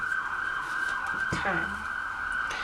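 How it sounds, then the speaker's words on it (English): An emergency vehicle siren wails steadily outside at a distance, a sustained tone heard through an indoor room, with a brief spoken word over it partway through. "Ooh, the siren."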